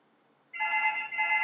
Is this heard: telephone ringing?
yes